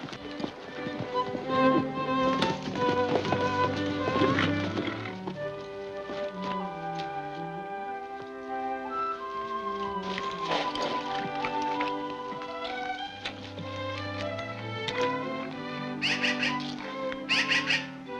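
Hooves clip-clop at a steady walking pace, with melodic music playing throughout.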